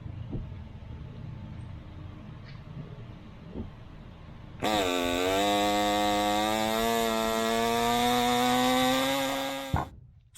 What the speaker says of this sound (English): So you can just use an air saw here, and you just want to cut through this